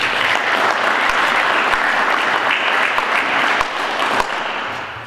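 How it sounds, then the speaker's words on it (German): Audience applause at a farewell ceremony for local politicians in the town of Frankenau, Germany: sustained, evenly dense clapping from a sizeable crowd that holds steady for about five seconds and then begins to thin slightly. "Herzlichen Dank und einen Applaus"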